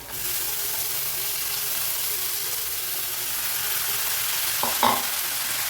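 Steady broadband sizzling of chopped broad beans frying in a pan without added water, close and continuous, with a brief clatter of stirring near the end.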